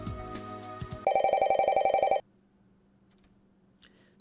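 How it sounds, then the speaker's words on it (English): Telephone ringing as a sound effect in a visual novel game: a burst of repeated electronic rings fills about a second, preceded by a brief musical phrase and followed by quiet rain-like hiss with a faint chime. "The telephone rings."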